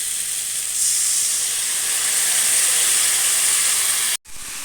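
Water poured into a pan of frying Bengali fish curry masala gives a loud, steady steam hiss and sizzle that holds for about four seconds, then cuts off sharply and resumes more quietly.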